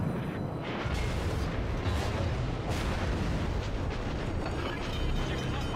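Heavy battleship gunfire in the World of Warships naval game, deep booming salvos and rumbling blasts layered one over another for several seconds, loud and continuous with no talk.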